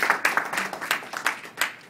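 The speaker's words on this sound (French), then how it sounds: "On peut l'applaudir." A short burst of applause from a small crowd greets the vote teller at a presidential election ballot count, with scattered hand claps that swell and fade over about two seconds.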